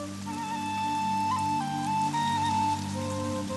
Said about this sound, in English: October brings rain to the valley.